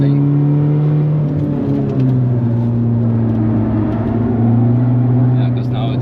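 A rusty Skoda running on sunflower oil spins its wheels at the Nürburgring, its engine holding a loud, steady drone that dips and rises slightly in pitch throughout, with faint voices mixed underneath.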